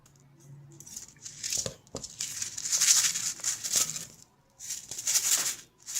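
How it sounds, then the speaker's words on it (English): Scissors trim the excess material from a holiday shaker tag, making several close snips and crisp cuts along with crinkling plastic, in a quiet setting without talk. "We're going to just trim away the excess."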